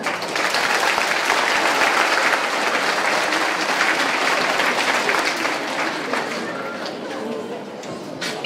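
A school assembly audience at a primary school awards event claps loudly and continuously, a thick crowd applause with scattered voices that gradually tapers near the end.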